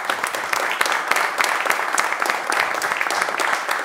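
An audience at a business club event applauds a guest, a skipper and naval officer, with dense, sustained clapping from a sizeable crowd, close and steady for several seconds.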